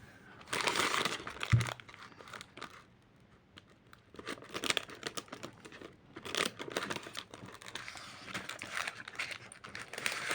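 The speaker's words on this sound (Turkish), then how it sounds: "Makasla keselim hatta." Crinkly plastic rustling and snipping in bursts as a Lego polybag is cut open with scissors, close up, with a brief low thump early on and pauses between handling noises.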